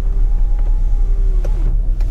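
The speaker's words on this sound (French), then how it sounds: "J'en profite pour fermer les fenêtres parce que sinon on va pas nous entendre." Electric windows closing on a 1999 Peugeot 306 Cabriolet 1.6, a thin steady motor whine over the car's low idle rumble that cuts off after about a second and a half, followed by a brief soft knock.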